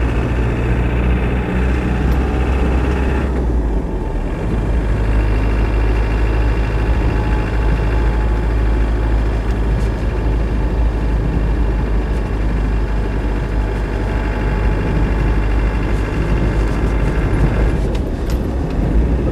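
A Land Rover 90 with a 200Tdi diesel engine drives with a loud, steady low-pitched drone and gear whine, the engine note shifting as it changes down through the gears, heard from inside the cab.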